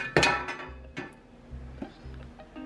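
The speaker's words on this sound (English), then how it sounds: "I'm gonna get this bread out of this pan now" A freshly baked loaf of sandwich bread is worked out of its metal baking pan, giving a sharp clank followed by several lighter knocks and taps of the tin at close range.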